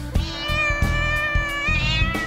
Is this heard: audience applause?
no